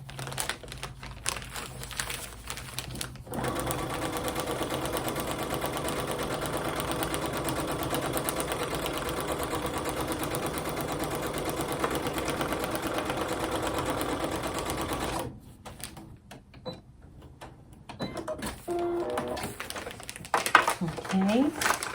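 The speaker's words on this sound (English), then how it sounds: "So we're going to need to sew this line to here." A sewing machine stitches a line across braid paper on a roll with a steady, close whirring hum for about twelve seconds, stops, then starts again briefly with soft paper rustling.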